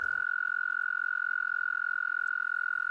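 Male toads trill their spring mating song in one steady, unbroken, high-pitched purring trill that holds throughout, close and clear with no talking.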